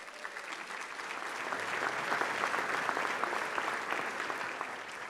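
An audience at a county address event claps loudly for a graduating student bound for Auburn University. The dense applause swells steadily and holds for several seconds, with no voices over it.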